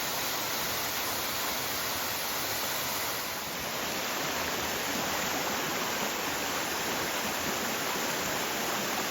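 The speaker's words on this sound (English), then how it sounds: "Who doesn't love a good waterfall?" A waterfall and stream along the Wonderland Trail roar as a continuous, loud, broadband rush of water, steady and close for the whole stretch.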